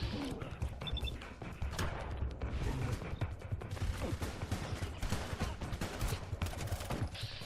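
Gunfire in the post-apocalyptic shooter Fallout London, with repeated sharp shots and bursts crackling through a busy, dense mix of game sounds, fairly steady and loud throughout.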